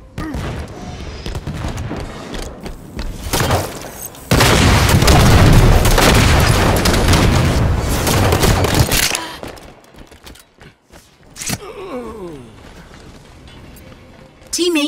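Rocket launcher explosions and gunfire in Halo 5 arena Oddball on the Echelon map: a loud, sustained roaring blast dominates the middle, with scattered shots and mechanical clatter before and after.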